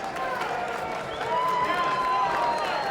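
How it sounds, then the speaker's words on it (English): Crowd applause and cheering for boxer Frederico Flores Jr. after a fight, a steady wash of clapping that swells slightly midway, with a voice talking over it. "right now getting an ovation from the crowd, and well-deserved"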